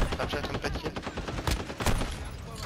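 Gunfire in a Call of Duty Modern Warfare 2 multiplayer match, with a shotgun among the weapons: a dense run of rapid shots and short bursts, with two louder, sharper blasts near the end.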